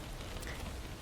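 Steady rain with a dense, even patter that continues throughout the short stretch, fairly soft and without any voices.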